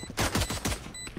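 Short automatic gunfire bursts in the tactical shooter Valorant, a rapid rattle of close, sharp shots in quick succession over a brief moment.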